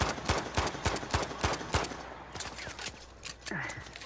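Rapid bursts of automatic gunfire from a team deathmatch in the video game Uncharted, dense sharp cracks clustering through the first two seconds, then sparser scattered shots with a faint whooshing effect near the end, no talk over it.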